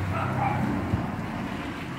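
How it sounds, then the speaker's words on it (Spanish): Dogs bark and yip from a workshop where a Truper angle grinder is being taken apart, with a short bark standing out over a continuous background of ambient noise. "Perdón, amigos, por los ruidos ambientales de los perros"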